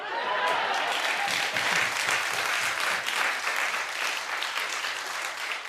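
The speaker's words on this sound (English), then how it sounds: "Clap if you would." A studio audience claps steadily for about six seconds, a dense, even wash of hands with a faint voice or cheer rising briefly near the start.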